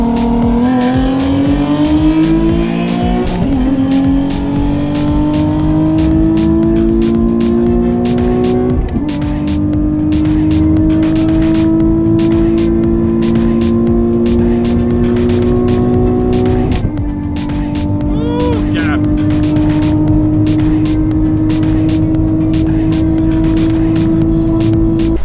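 Nissan 370Z cars racing side by side, engines revving hard and climbing in pitch through repeated gear shifts, loud and close throughout.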